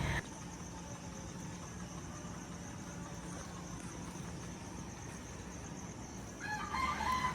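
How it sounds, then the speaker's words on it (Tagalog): Roosters crowing in the early morning at a rural resort in Pampanga, Philippines, faint and distant over a steady background hum, with a clearer crow rising near the end. "Kahit saan, maraming manok."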